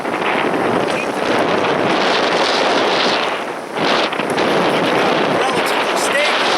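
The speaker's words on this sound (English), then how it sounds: "We'll get some real wind up here." Strong wind buffets a microphone outdoors in a loud, steady broadband roar that dips briefly midway before surging back, with no clear talk over it.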